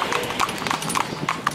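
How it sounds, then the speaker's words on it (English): A hard-mouthed driving horse trotting at speed, its hooves giving a quick, steady clip-clop rhythm close by, with faint wind or movement noise underneath. "This horse would never have cantered at this speed in his life."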